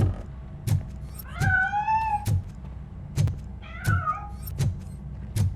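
A cat meows twice in RoboCop: Rogue City, each rising, drawn-out call standing alone over a quiet backdrop punctuated by regular soft thumps.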